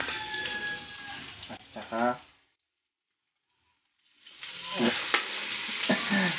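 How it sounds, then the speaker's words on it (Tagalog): Squid tossed into a hot wok with carrots for special pancit canton, loud sizzling and stir-frying clatter up close, broken by a sudden silent gap mid-clip, with a person talking over the cooking. "So, ngayon, isusunod na natin yung pusit."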